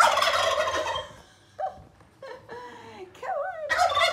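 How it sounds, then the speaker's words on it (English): Chickens and a rooster wander indoors, giving gobbling, clucking calls at moderate distance, a dense burst at the start and at the end with scattered squawks between; no talk. "the chickens have come in. Let me show you. They're everywhere. And the rooster's coming in."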